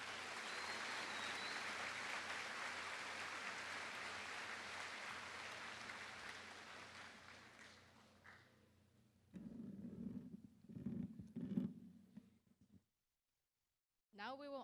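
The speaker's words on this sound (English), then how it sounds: "Please give them all another round of applause." School Veterans Day assembly audience gives a round of applause for veterans: broad, sustained clapping for about eight seconds that fades out, followed by low rumbling handling noises, a pause of silence and a brief return of sound.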